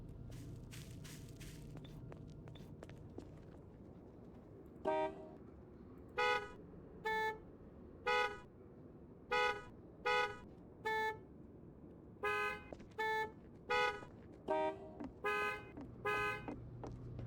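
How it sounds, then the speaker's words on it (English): Car horns honk in Garry's Mod in a string of short, loud toots in uneven bursts, after a few seconds of quieter game noise. "My Gmod froze, and then when it unfroze, every single honk played together at once"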